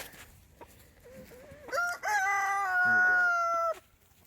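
A rooster crows loudly and close by, a long drawn-out cock-a-doodle-doo, with softer clucking from chickens before it; recorded at night.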